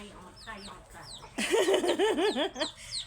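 Grandmother's backyard chickens with young chicks in a rural Thai village, giving rapid wavering clucks and thin chirps close by that grow louder partway through, with a person talking.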